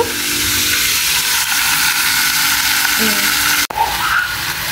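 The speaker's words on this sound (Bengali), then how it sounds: "আমি মশলাটাকে একটু ভালোভাবে কষাই নিচ্ছি।" Spice paste sizzling and frying in a pan for an Indian-style hilsa fish dish with vegetable stems, a steady broadband hiss throughout with a brief break near the end.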